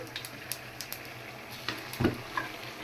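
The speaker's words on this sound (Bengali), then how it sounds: "আর এখন আমি এই তেল সহ পাঁচ দিয়ে দিলাম" Hot oil with panch phoron goes over cooked mixed vegetables with a soft sizzle, a few sharp crackles, and a louder spatter near the end.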